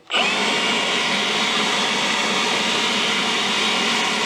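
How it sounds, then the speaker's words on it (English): A blower fitted to an old GMC engine starts abruptly, then runs as a loud, steady, whining roar close by with no break. "Engaging blower."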